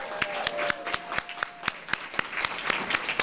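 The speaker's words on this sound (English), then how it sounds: "let's give the class of 2026 another round of applause" Applause from a crowd at a graduation ceremony, with a few sharper, louder individual claps standing out in a loose rhythm above the steady patter.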